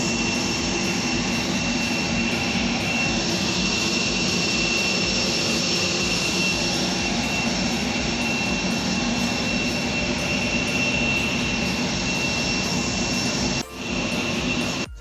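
Steady, loud jet engine roar inside the cabin of an Airblue airliner on a flight from Sialkot to Abu Dhabi, a continuous broadband drone with faint tonal whine, dipping briefly near the end.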